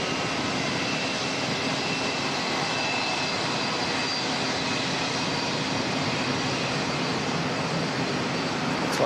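A jet airliner takes off at Auckland Airport, bound for Rarotonga, its engines producing a steady, loud broadband roar that holds constant throughout without pause, heard alone with no voices present.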